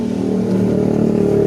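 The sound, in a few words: motorcycle engine sputtering when revved, carburetor problem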